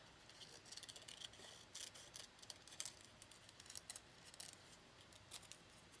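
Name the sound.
scissors cutting paper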